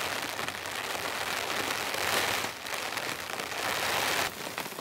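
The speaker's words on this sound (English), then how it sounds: "This rain's coming down real nice and gentle," Gentle rain patters steadily on a tent in the wilderness while camping, a dense, even hiss of drops with slight swells and no voices.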